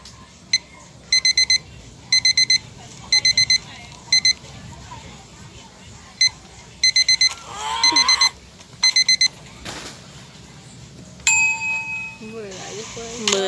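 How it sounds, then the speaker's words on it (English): An electronic alarm clock beeps loudly in quick groups of four, repeating again and again, with people talking and reacting between the bursts. "Alarm."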